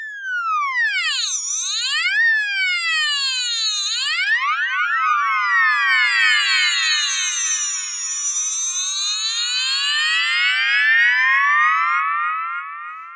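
A Vital synth atmosphere pad from the preset bank "High Up in the Mountains," its macros modulated so the tone keeps sweeping up and down in a bright, shimmering, alarm-like way. It plays continuously and alone with no talking.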